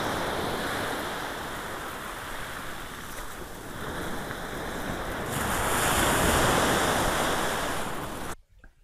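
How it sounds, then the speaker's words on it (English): Sea waves surge and wash up on a shore during a Christmas Day walk, a steady broadband roar that swells louder toward the end, mixed with wind buffeting the microphone, then cuts off abruptly. "Something relaxing about those waves, isn't there?"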